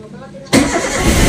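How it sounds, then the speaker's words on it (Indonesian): Car engine starting up close inside the vehicle after a quiet moment, a sudden loud catch that settles into a steady idle roar. "Kita nyalain dulu mobilnya, kita sambil nunggu orderan, sambil kita angetin mesin mobilnya"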